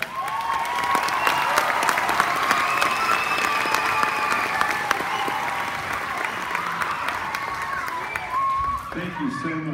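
Sustained audience applause fills a children's choir Christmas concert, a steady dense wash of many hands clapping close and loud for nearly ten seconds, thinning slightly near the end.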